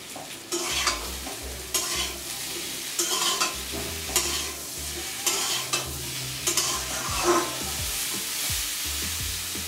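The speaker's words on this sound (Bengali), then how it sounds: "ভাজা আলুটা দিয়ে বেশ কিছুক্ষণ নাড়াচাড়া করে নেব।" Fried potatoes being stirred in a pan while cooking a Bengali amudi fish curry: repeated close scraping strokes of the spoon against the pan over a soft, steady sizzle, with no talking.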